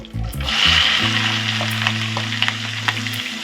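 Four medium onions fry in hot oil for a stuffed brinjal curry, a loud, close, steady sizzle with a few spoon scrapes, while low tonal hums run beneath much of it.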